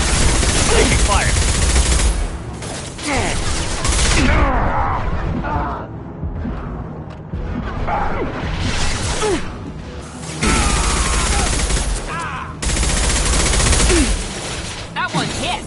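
Sustained bursts of automatic gunfire in a Mass Effect 2 firefight, loud and dense rattling volleys with brief lulls between, mixed with a shouted voice.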